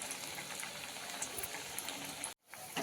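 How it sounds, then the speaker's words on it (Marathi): Kothimbir vadi, coriander fritters, frying in oil on a low flame, giving a steady dense crackling sizzle close by that cuts out abruptly near the end before faintly resuming. "वरची बाजू आपल्याला अशी छान खरपूस तळून घ्यायचा मंद गॅसवर"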